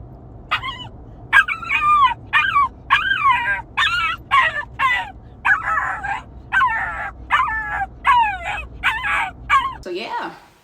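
A young puppy clipped in by a seatbelt in a moving car whimpers, yips and howls anxiously in a steady run of high, wavering cries, loud and close over a low engine rumble.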